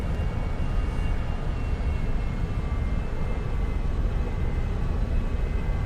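A Boeing 737-800's jet engines rumble steadily while it taxis in X-Plane 11, a loud, unbroken low roar with a faint high whine and no talking.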